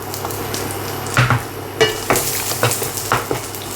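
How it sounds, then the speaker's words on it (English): Lapchung sausage sizzles in hot oil in a pan while a utensil stirs it, giving a steady frying hiss under sharp, irregular scrapes and clacks against the pan, loud and close with no talking. "we're going to give the lapchung a little bit of a stir in the oil."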